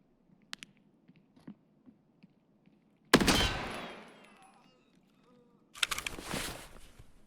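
A single loud, close rifle shot from an SVD-style gun in Escape from Tarkov cracks out, its echo trailing off over a second, followed by a second sharp burst of gunfire; quiet ambient clicks and shuffles come before it.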